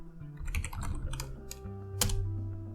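Commands being typed on a computer keyboard during an Arch Linux installation, a quick close flurry of soft key clicks followed by a firmer single tap.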